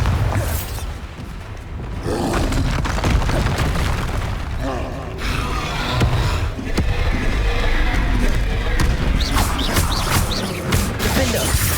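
Bombarda explosion spells in Hogwarts Legacy boom and crash repeatedly within loud, dense combat noise, with heavy impacts and rumbling debris running throughout.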